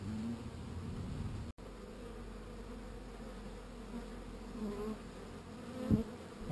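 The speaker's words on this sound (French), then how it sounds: "c'est un frelon asiatique qui est pris par les abeilles" A swarm of honeybees hums in a dense, steady buzz at close range around a captured Asian hornet, with a brief dropout partway through and a small louder flutter near the end.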